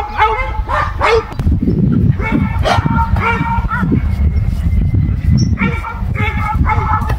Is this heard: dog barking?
yes